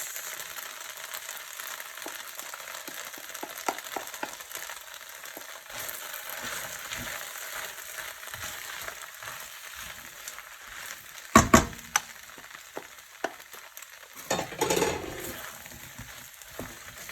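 Chicken and prawn Pad Thai with sauce stir-frying in a pan, a soft steady sizzle with light scraping, then a couple of sharp clanks and a brief rustling burst from mixing near the end.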